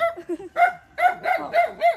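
A dog barks five or six times in quick succession, close and fairly loud, with one short higher yip among the barks and no talk over it.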